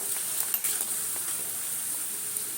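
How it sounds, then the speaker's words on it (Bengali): Papads frying in hot oil for a breakfast of dalia khichdi, giving a steady, close sizzle with a broad hiss and a few small crackles and pops throughout, with no voices. "চলো এই পাঁপড়গুলো ভেজে নেব"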